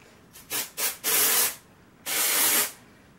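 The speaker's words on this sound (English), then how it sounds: "I'm going to part my hair down the middle and just spray that on there" Several short dry shampoo aerosol sprays hiss close by onto hair: two quick bursts, then two longer sustained sprays separated by a brief pause.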